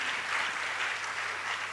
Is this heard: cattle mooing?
no